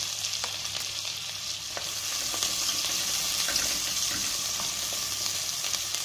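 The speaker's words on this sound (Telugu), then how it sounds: "అలాగే తర్వాత అవి కొంచెం ఫ్రై అయిన తర్వాత ఆనియన్స్ వేయాలి." Onions fry in melted ghee with ajwain and cumin, giving a steady loud sizzle that runs throughout, with a few faint stirring scrapes and no talking.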